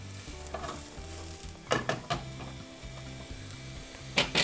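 Close, steady sizzling of shimeji mushrooms frying in a hot pan with a little olive oil over medium heat, broken by a few crackling bursts and scraping stirs.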